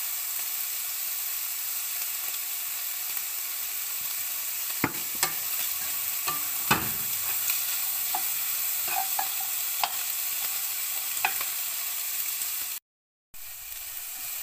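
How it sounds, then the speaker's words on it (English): Onions sizzling steadily in a pan as they soften, with occasional sharp clicks and taps of stirring; close and continuous, no talking, and a short dropout near the end. "all I'm trying to do is get the onion soft."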